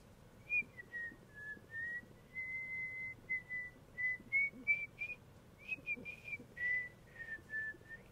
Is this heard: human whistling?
yes